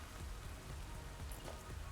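Rain falls in the video game Satisfactory as a steady, fairly quiet patter and hiss with a low rumble beneath, continuous and without talk.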